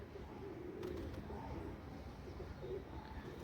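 Soft pigeon cooing murmurs in quiet, repeated low phrases at a loft with young birds, faint and close, with light background rustle.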